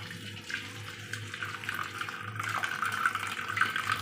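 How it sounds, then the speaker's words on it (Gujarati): Excess cooking water poured off boiled pav bhaji vegetables into a kitchen sink, a steady close splashing trickle that holds for about four seconds with no talk over it. "થોડુંક પાણી વધારે છે, તો થોડુંક પાણી અહીંયા આપણે કાઢી લેશું"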